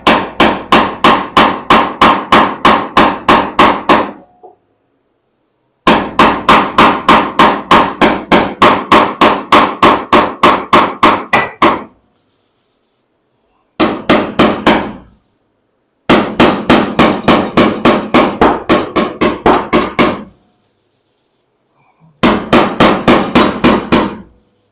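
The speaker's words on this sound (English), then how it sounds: "I'm going to take one of my really nice surfaced hammers and just gently tap." A surfaced hammer taps an aluminum panel on a 1970 Dodge Challenger in a body shop, giving long runs of rapid, evenly spaced metallic strikes, loud and close, broken by short pauses.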